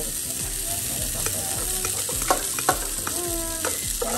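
Onion and rice for fried rice sizzle and fry in a pan while being stirred, a steady close crackle broken by scraping utensil strokes and a few louder knocks.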